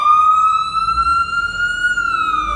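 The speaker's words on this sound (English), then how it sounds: "Yeah, it's ambulance." An AMR ambulance siren wails loud and steady on a city street, its rising and falling tone close by over a low rumble of traffic, with no voices.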